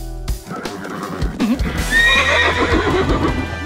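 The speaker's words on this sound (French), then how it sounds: "C'est le cheval Pégase!" A horse whinnies loudly and close by in an animated children's cartoon, a rising then falling neigh, with some hoof and movement noise around it.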